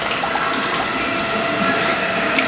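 Liquid rushing out of a stripper tank during draining, a steady, loud splashing flow with no talk.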